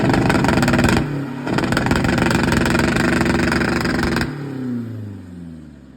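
A Honda Civic SOHC turbo engine on full exhaust revs loud and close with a dense rasp, drops briefly, climbs again, then cuts off and falls away into a fading decay.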